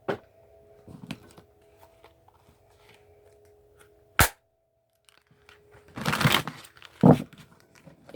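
A Dreams of Gaia oracle card deck being shuffled, with soft riffling bursts and a few sharp taps, the densest shuffling near the end, close and fairly quiet.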